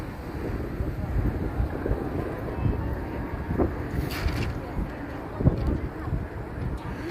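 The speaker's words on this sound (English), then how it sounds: "You hear the wind?" Wind gusting across the microphone on a busy Chicago street during St. Patrick's Day, a steady low rumbling buffet with occasional louder bumps, no voices over it.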